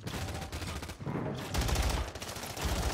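Rapid automatic gunfire in Call of Duty Warzone on Rebirth Island, rattling in continuous fast bursts with heavy low thumps, loud and close throughout.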